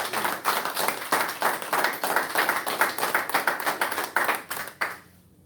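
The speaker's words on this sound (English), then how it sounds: "Can we please give our brother ministers a round of applause again, please?" A congregation at a temple service gives the ministers a round of applause: brisk, rhythmic clapping from a moderate crowd, close and fairly loud, that keeps an even beat and then dies away abruptly at the end.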